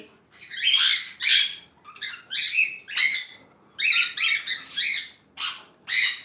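Sun conures and cockatiels at a bird farm in Bangladesh give loud, repeated harsh squawks and shrill calls in quick bursts, close by, with short pauses between them.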